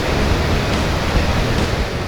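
Water pours over the edge of a waterfall into a deep drop, a loud, dense, continuous roar of rushing water with no pauses, heard up close.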